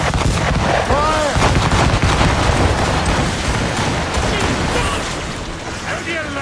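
Ship cannons fire a relentless barrage during a naval battle in the video game Assassin's Creed Rogue. The booms and crackling blasts merge into a loud, continuous roar that eases slightly toward the end.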